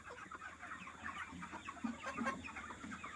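Chickens in a shed cluck softly and continuously, a low, busy chorus of many birds heard at a quiet level with no talk.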